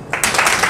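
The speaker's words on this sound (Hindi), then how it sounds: "तालियां" Applause breaks out at a bridal makeup class awards moment, a sudden burst of clapping that swells and holds steady through the short moment.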